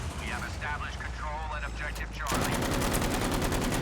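A tank's machine gun opens up in Battlefield V, a rapid continuous stream of shots that starts abruptly after a stretch of players chatting and continues loudly to the end.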